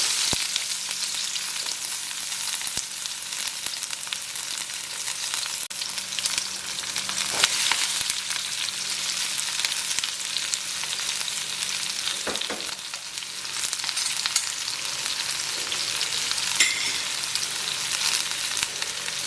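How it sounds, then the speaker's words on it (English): Onions browning in hot fat in a pan for sauerbraten, a steady close sizzle with light crackles and occasional stirring scrapes throughout, no voices heard. "while I brown the onions here"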